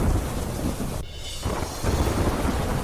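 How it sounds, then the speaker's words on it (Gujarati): Heavy rain pours down in Bhilwara, Rajasthan: a loud, dense, steady roar of downpour that dips briefly in the middle before returning at full strength, with no voices. "રાજસ્થાનના ભીલવાડામાં વરસાદની ધમાકેદાર બેટિંગ"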